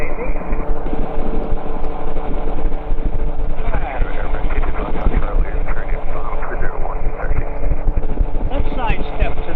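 A light aircraft's engine roars steadily at full throttle during a go-around near a yellow gyroplane, loud and continuous throughout, with radio-style talk heard over it.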